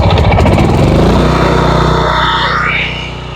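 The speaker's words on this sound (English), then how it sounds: "the generator's making a lot of noise" A Generac LP8000 portable generator engine runs loudly and close by, with a rough, pulsing mechanical roar that holds steady before easing off slightly near the end, with no talking.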